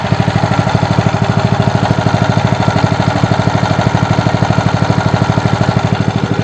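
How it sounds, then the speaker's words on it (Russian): A Lifan 8 hp KP230 single-cylinder small engine with a 20 mm shaft runs steadily close up, its fast, even chugging pulse loud and unbroken with no voices. "По звуку, кстати, напоминает работу 17-сильного, мужики, мотора."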